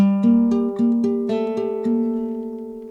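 Clean plucked guitar notes ring out one after another in an even arpeggio, each note sustaining and overlapping the next, close and clear.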